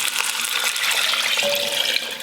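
Water pouring steadily into a soup pot for gluten-free chicken matzah ball soup, a continuous bright splashing stream, close and fairly loud, with no talk.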